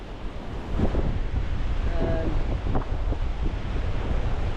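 Steady outdoor wind buffets the microphone on a muddy River Humber shoreline in November, a continuous loud rumbling roar with gusts that swell and fade, like surf, for the whole stretch.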